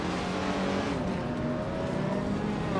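A classic 1966 McLaren M1 race car in a racing video game roars at full throttle off the start at El Capone Raceway, a loud, continuous engine snarl with shifting pitch and other cars close by.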